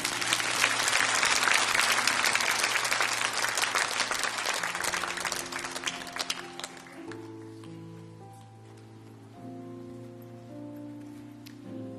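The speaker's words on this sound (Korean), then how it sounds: "우리 맨 먼저 우리 자매님 나오시는데 뜨거운 박수로 맞아 주시기 바랍니다" Warm applause from a Korean church congregation at a Sunday service, loud and dense for about six seconds, then fading as sustained keyboard or organ chords take over and continue alone.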